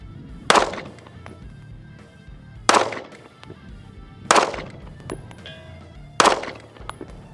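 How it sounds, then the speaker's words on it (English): Four 9mm pistol shots fired at a 200-yard target, loud sharp cracks spaced about two seconds apart, each with a short decaying echo, and quieter movement between shots. "So we're literally just lobbing this 9mm and hitting this target."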